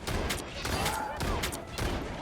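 Rapid bursts of gunfire from a gun in a ranked online video game, several quick volleys in a row at moderate loudness with game sounds around them.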